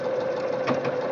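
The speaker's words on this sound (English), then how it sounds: "Now what the machine is doing is straight stitching" A Singer Quantum Stylist 9960 sewing machine sews a blind hem, running at a steady fast, even chatter of stitches, close and alone.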